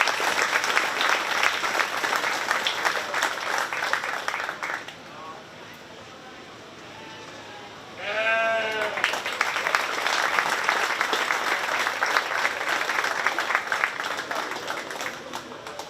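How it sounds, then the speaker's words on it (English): An audience at a 4-H county fair sheep show claps loudly for the young exhibitors, a burst of applause that dips briefly and then surges back to full strength. "Let's give all the kids in the sheep show a round of applause."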